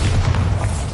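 A Bombarda spell explosion from the Hogwarts Legacy video game lands as a single brief, heavy boom, loud and close, with a deep rumbling body and no voices.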